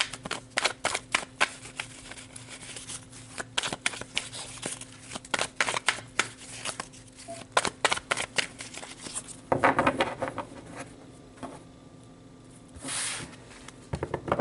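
Tarot cards being shuffled, a long run of crisp riffling, flicking and slapping card sounds close up, with brief pauses and a few sharper snaps toward the end.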